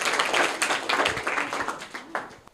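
Classmates in a school quiz applaud a seventh-grade student's correct answer, a dense burst of many hands clapping at once that holds steady for a couple of seconds before thinning out at the end.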